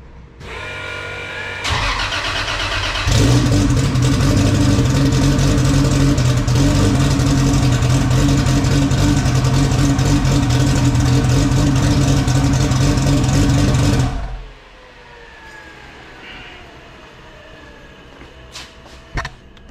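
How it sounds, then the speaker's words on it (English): A Camaro with a swapped-in 2JZ engine, its fuel pump seal leaking, cranks briefly and fires, then holds a loud, steady, throaty idle for about twelve seconds before cutting off, leaving faint clicks and quiet background. "she's ripping nicely, idling"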